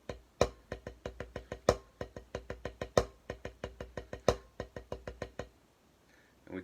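Crisp drum strokes rolling in steady groups, paired diddle strokes building seven-stroke roll patterns with louder accents, close and alone, then a stop into quiet.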